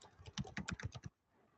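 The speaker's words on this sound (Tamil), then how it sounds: "அடுத்தடுத்த லைனில் டைப் பண்ணிட்டு போயிட்டு இருக்கேன்." Quiet, quick typing on a computer keyboard, about a second of rapid key taps followed by near silence, with no voices.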